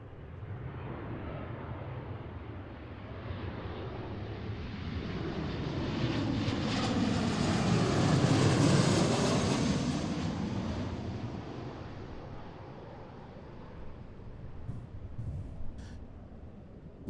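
An Alaska Airlines jet on approach to land at Seattle, its engine roar swelling from distant to loud as it passes close overhead around the middle, then fading away; no talking.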